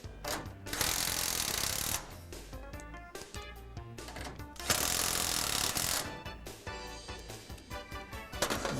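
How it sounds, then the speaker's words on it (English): Self-threading screws driven by a power driver into the hardware of a Martin Fingershield system, in several loud bursts of whirring and ratcheting with short pauses between them, close by and without speech. "All the hardware will now be fastened with self-threading screws."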